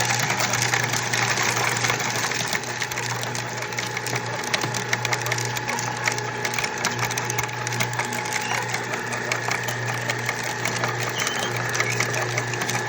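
Corn seed meter running slowly at reduced RPM with its gate open, a steady mechanical whir and hum under dense, continuous rattling clatter that stays constant for thirteen seconds.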